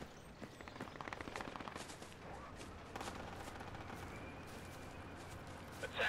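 Gunfire in the military shooter game Project Reality: a rapid run of shots, then scattered bursts, sounding fairly distant and muffled over a steady background of battlefield noise.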